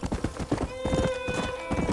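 Horse hooves clip-clop at a quick rhythm in the Red Dead Redemption video game, and a horse neighs over the galloping, close and fairly loud.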